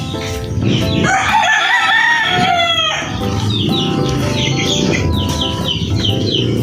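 A Lemon Sweater line gamefowl rooster crows loudly and close by in a drawn-out cock-a-doodle-doo, while other roosters crow and hens cluck around it in a noisy game farm yard.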